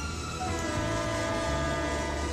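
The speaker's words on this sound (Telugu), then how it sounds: "అరే ట్రైన్ వచ్చేసింది." A train pulls in, with a steady heavy rumble of rolling rail cars and a sustained, tonal train horn sounding over it, loud and continuous.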